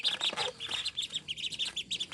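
Ducks, likely young ducklings, give rapid, repeated high-pitched peeping chirps in quick bursts, close and fairly clear, with no talking.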